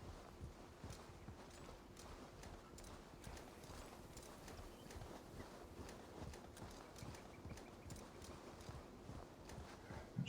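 Faint, steady clip-clop of horse hooves at a brisk, regular trot in the video game Assassin's Creed Valhalla, quiet and continuous with no voices.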